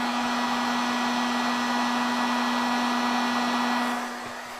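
A heat gun blows hot air onto window insulator film in a steady, close, loud whirring hiss with a fixed motor tone, easing off slightly near the end.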